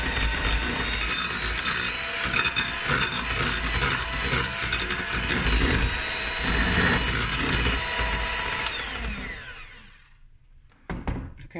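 An electric mixer churns butter biscuit dough in a steady, dense mechanical whir with rattling grit, running loud and continuous before cutting off near the end, leaving a brief clatter.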